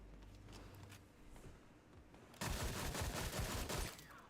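A PPSh submachine gun fires in the video game Sker Ritual, a loud rapid burst of automatic shots breaking in after a quieter stretch of faint game ambience with scattered thuds.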